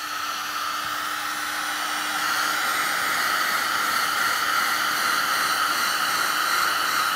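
A hot-air heat gun blows steadily to shrink tubing during electrical grounding work on a RAM Promaster 2500 van conversion, a loud close hiss that swells slightly in strength partway through, with no talking.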